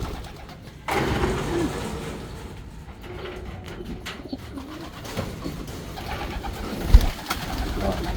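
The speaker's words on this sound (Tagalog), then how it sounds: "Yan mga kalapatid." Pigeons in a breeding loft coo softly among rustling and shuffling, with a steady background hum and a brief knock near the end; the birds sound close but faint.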